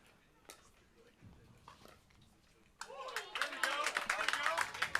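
Pickleball crowd at a professional match; a spectator's whoop rises from the stands amid a burst of cheering and clapping after a missed soft dink, loud and lively following quieter court sounds.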